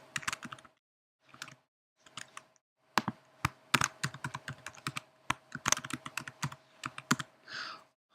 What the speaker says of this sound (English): clicking this will allow us to type in the password and the username